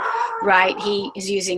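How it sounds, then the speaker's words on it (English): Dogs barking at home behind a person talking, with a few short, sharp barks breaking through the steady speech toward the end. "I have barking dogs."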